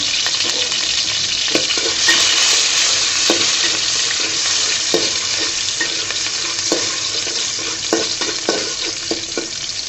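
Garlic frying in soybean oil in a pan for a taro-leaf and shrimp dish: a loud, steady sizzle throughout, broken by repeated light taps and scrapes of a stirring utensil, close by with no talking.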